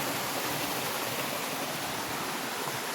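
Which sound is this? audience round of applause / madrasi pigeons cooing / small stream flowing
small stream flowing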